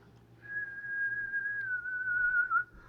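A single person whistles one long, steady note that wavers slightly and dips at the end, faint hum underneath.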